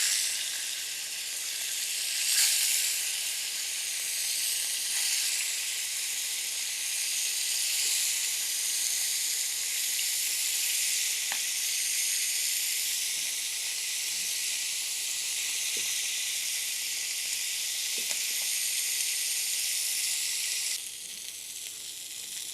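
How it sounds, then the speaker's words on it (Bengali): Medium-sized fish frying in oil in a pan, with a steady bright sizzle and faint pops and crackles, close and moderate in level. "এগুলো এখন আমি ভাজতেছি।"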